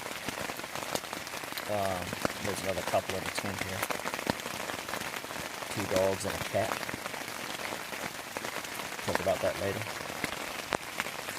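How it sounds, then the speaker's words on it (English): Rain patters steadily on a camping tent along a trail, a dense continuous drumming that runs throughout, with a person talking quietly over it in several short bursts. "just waiting for this rain to ease up a bit"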